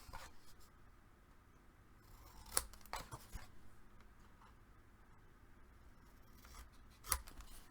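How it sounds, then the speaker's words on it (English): Scissors snip paper corners off a handmade popcorn dispenser box in a few quiet, close cuts. Two sharper snips stand out amid soft handling noise. "we're going to go ahead and cut from one corner of it to the other to take off the triangle"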